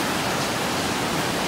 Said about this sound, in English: Look at another little waterfall there